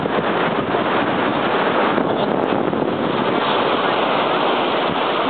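Surf washing ashore at Newport Beach, California: a steady, dense roar of breaking waves with a constant layer of wind buffeting the microphone, and no clear individual wave crashes.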